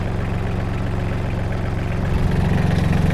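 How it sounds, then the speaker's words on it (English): A tractor engine drives a flail mower with sharpened hammers, a loud, close, steady low rumble with a throbbing idle beat that grows slightly heavier toward the end. "now's an opportunity really to try the flail mower again"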